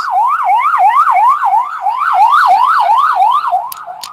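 Emergency vehicle siren wailing loudly outdoors, a rapid rising-and-falling yelp repeating steadily with no other sounds around it.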